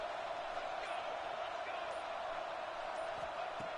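A steady, dense roar of a stadium crowd fills a college football video game (CFB26) broadcast, constant and unbroken throughout, with commentary voices faintly over it.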